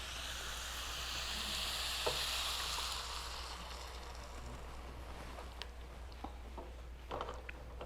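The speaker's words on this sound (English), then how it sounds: "Now I'm going to put in the thin coconut milk." Thin coconut milk pours into a sizzling pan of mushroom curry, a steady bright frying hiss that swells and then settles into softer bubbling with a few small clinks, no talking.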